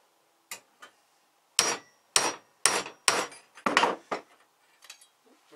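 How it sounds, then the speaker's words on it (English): A big hammer strikes steel that is being bent into a skull shape. Sharp metallic blows land in an uneven series of about eight hits, close and loud, with quiet gaps between them. "bloody big hammer. You're going to bend."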